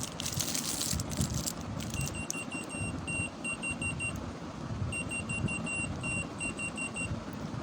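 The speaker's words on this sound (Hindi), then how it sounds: "अलार्म के साथ हैं ये की चेन।" A key finder keychain alarm gives two runs of rapid, high, electronic beeps, separated by a short pause. The beeps sit over a steady hum of background noise. No voices are heard.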